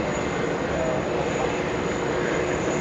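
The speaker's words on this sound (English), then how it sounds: "Now we go to a 747 freighter. That is going to be a departure on 4 left." A Boeing 747 freighter departing runway 4 left at JFK, heard as a steady, continuous roar of jet engine noise that holds an even level throughout the short stretch, with no voices over it.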